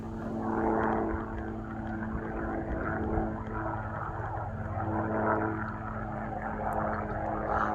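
Steady, droning engine noise from a helicopter flying low over a homestead. The sound holds at a constant level for several seconds, a continuous rumble without a distinct approach or fade, and no one speaks.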